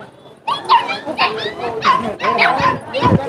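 Several dogs bark, yip and whimper close by at the Bắc Hà dog market, in repeated overlapping bursts beneath someone talking.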